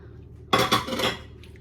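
A brief clatter of a utensil against a pot as bacon is stirred into creamy mac and cheese sauce, a close burst of metallic clinks lasting under a second.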